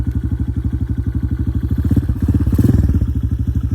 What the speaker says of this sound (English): Fires right up with electric start.